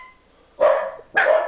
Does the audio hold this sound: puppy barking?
yes